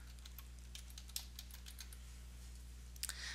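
Light, scattered clicks of typing on a computer keyboard, faint and close, with a few sharper keystrokes and a quick burst near the end over a low steady hum.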